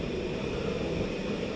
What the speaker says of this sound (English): That's the sound of the high burner.